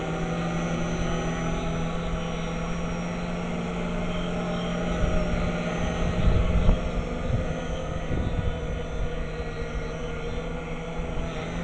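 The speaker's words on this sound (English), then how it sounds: "Wind is moving the drone everywhere." A modified Mavrik drone flies in gusty wind, its steady motor and propeller drone continuous throughout with a constant hum, swelling slightly midway as buffeting noise rises.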